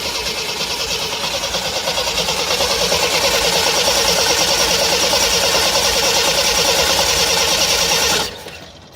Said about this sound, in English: All right, ready to give it a go. Still haven't filled the bowls up, so it'll take a little while to crank.